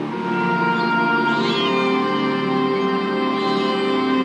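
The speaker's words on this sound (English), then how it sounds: "there's always cats roaming around on account of him always smelling like fish" Several cats meow and caterwaul in long, drawn-out, overlapping wails, loud and close, with no talking.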